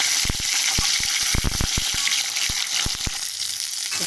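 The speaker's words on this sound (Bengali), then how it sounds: "তো আমি কাতলা মাছের মাথাগুলো একটু দিয়ে ভালো করে ভাজবো।" Catla fish heads fry in hot oil with bay leaf in a pan. A close, dense sizzle carries sharp, irregular pops and crackles throughout.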